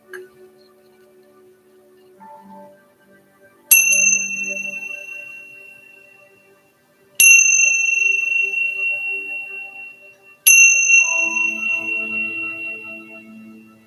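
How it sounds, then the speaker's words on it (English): A mindfulness chime rung three times in a classroom setting, each strike a bright ringing tone that decays slowly over several seconds, with quiet gaps and faint background sounds between strikes. "So we'll begin with a chime."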